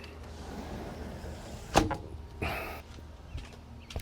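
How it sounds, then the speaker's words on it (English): A door swings shut with one sharp knock followed by a softer rattle, heard indoors at moderate distance over steady background hum. "I'm going to close the door."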